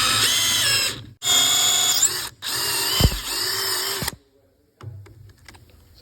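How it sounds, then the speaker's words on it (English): A power reamer drills through exhaust valve guides in a Jaguar XKR cylinder head, sounding as three loud, close bursts of high-pitched whirring separated by short pauses, then quiet with faint handling noise. "Now I'm just about to ream the exhausts."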